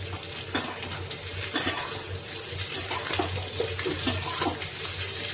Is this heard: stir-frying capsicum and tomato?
yes